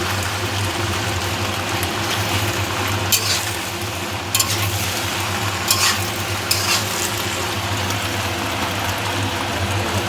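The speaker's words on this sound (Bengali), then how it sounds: "এখন সব কিছুকে মিশিয়ে এক দু মিনিট ভাজা ভাজা করে নিলেই রেডি হয়ে যাবে" Steady, loud sizzling of egg pasta stir-frying in a pan, with stirring scrapes and a few brief clatters throughout.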